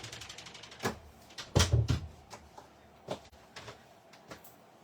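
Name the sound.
door being shut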